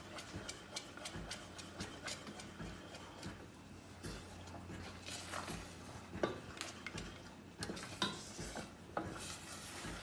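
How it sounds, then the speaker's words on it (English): Spoon scraping and stirring thick brigadeiro against the sides of a pot on the stove, with repeated clinks and scrapes in an uneven rhythm over a faint background hum. "you want to keep scraping the sides so it doesn't burn at the bottom"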